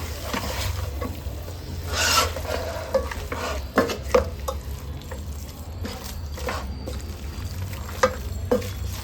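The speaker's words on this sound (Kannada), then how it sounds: "ಚೆನ್ನಾಗಿ ಮಿಕ್ಸ್ ಮಾಡ್ಕೊಳ್ಳೋಣ." Pork and greens being stirred in a pan for pork biryani, with steady sizzling frying underneath repeated scraping and clattering spoon strokes, close and moderately loud, no talking.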